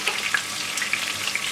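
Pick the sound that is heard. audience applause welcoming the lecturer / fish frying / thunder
fish frying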